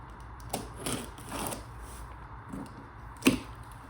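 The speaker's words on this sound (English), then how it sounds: "Got my pocket knife here, making the first cut." A pocket knife slices into the cardboard of a skateboard box, giving a few short, close ripping scrapes spaced apart and ending in one sharper snap.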